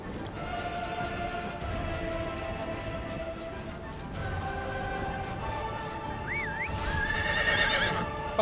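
A horse neighs in the video game Chrono Odyssey, a rising whinny heard near the end, over a steady game soundtrack and ambience.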